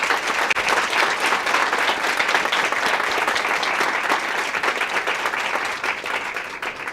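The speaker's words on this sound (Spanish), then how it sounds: "la despedimos con un fuerte aplauso" Loud, steady applause from an audience at a women-in-technology talk, dense clapping sustained for about seven seconds with no speech over it.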